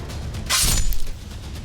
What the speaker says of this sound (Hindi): पुलिस की गाड़ियों के कांच तोड़े गए हैं।